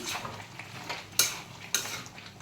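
A spoon stirs chicken curry with chopped onions and tomatoes in a pot, making soft scraping under a faint sizzle with two sharp metallic clinks against the rim, close and fairly quiet.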